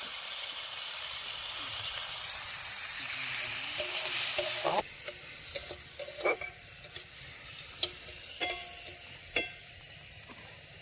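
Freshwater snails frying in a pan with turmeric and salt in a village kitchen, a strong steady hiss and sizzle with scattered sharp clicks and stirring knocks, close by and with no talk.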